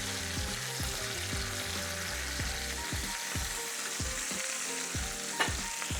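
Turkey pieces brown in a pan with a steady crackling sizzle, close and continuous, broken by repeated scraping clicks of stirring or turning.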